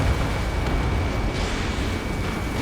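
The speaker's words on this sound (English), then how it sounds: "missile away" A missile launch and explosion in the combat flight game Ace Combat 7, heard as a dense, loud, continuous roar with a heavy booming low end and no voices.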